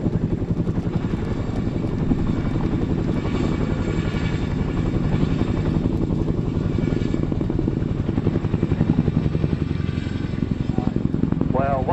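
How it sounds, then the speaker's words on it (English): RAF Chinook twin-rotor helicopter in a flying display at the Cosford Airshow, a continuous loud rhythmic rotor thudding with a deep engine drone throughout. "the iconic Royal Air Force Chinook by the roll demonstration team"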